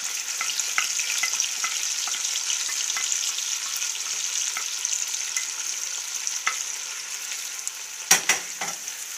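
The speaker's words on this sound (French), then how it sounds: "pendant que l'huile grésille, on y rajoute tous les oignons" Onions fry in sizzling oil for a Boeuf Bourguignon, giving a steady, close hiss with occasional spatters and a couple of sharp stirring clanks near the end.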